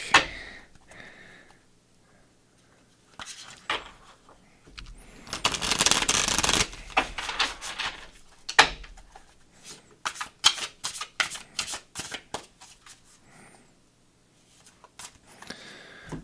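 A deck of tarot cards being shuffled repeatedly, with a long riffling burst followed by rapid flicking and tapping of the deck, close up with no talking.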